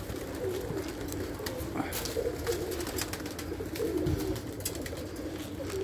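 Hungry pigeons cooing as they are fed mixed grain, wheat and soaked bread, a continuous low murmur of overlapping coos with occasional wing flutters and pecking clicks, moderately close.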